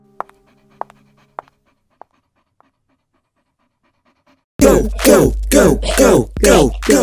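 A dog in an animated short pants loudly and rhythmically up close, after a few quiet scattered ticks and faint thuds in near silence.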